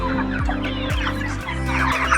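Meat chickens on pasture give repeated, fairly close clucks in a loose rhythm, several birds calling over one another.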